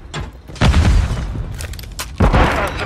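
Frag grenade blasts in Call of Duty: Modern Warfare 3 team deathmatch, two heavy booming explosions a couple of seconds apart with rumbling debris and gunfire-like crackle between them, no talk.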